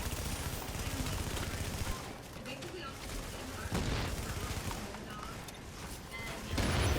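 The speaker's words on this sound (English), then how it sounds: "I'm getting melted from behind. I don't know what's shooting me." Gunfire in The Division during a PvP fight, sustained bursts of automatic shooting and impacts at steady loudness, with players talking over the shots.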